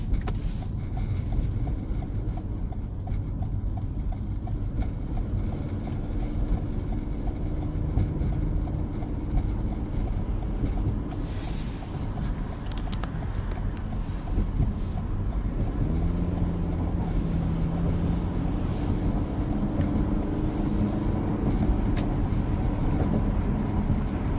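A car drives along Route 278, the Brooklyn-Queens Expressway, toward the tunnel in Brooklyn, New York, giving a steady, continuous low road and engine rumble with tire noise and passing traffic swells throughout, no talking.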